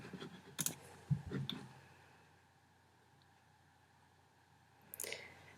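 A few scattered clicks and soft keystrokes from a computer mouse and keyboard while signing in to a Nearpod account, quiet and sparse, with a short burst near the start and another near the end over faint room hiss.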